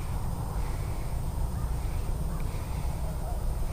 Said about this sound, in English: No, there's a crow.